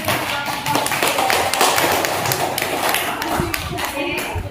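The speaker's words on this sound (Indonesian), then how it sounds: "Tepuk tangan." A university class group claps for a student presentation, with dense, uneven hand claps filling the room and some voices mixed in.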